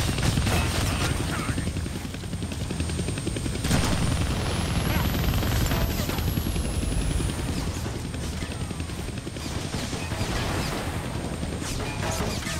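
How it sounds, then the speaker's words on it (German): A helicopter in the Deadpool video game keeps up a continuous rotor drone over game noise, with crashes and gunfire-like bursts mixed in. A single slow whistling tone rises and then falls in the middle. "Hey, wo ist der Helikopter hin?"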